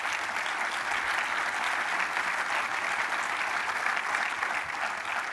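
Sustained applause from a conference audience fills the space evenly, a dense steady wash of clapping from start to finish with no voices on top.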